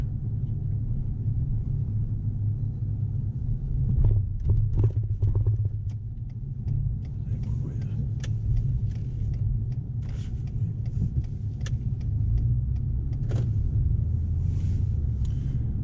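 A car drives along Michigan Avenue in Detroit, a steady low road rumble from inside the vehicle throughout, with scattered clicks and knocks in the middle stretch.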